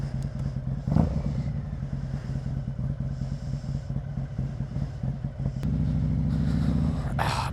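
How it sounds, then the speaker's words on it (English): A 2017 Harley-Davidson Street Glide Special V-twin runs at a steady idle with a low, throbbing rumble, heard close up. It briefly picks up a fuller tone near the end, with a faint clatter. "So this bike's all fired up."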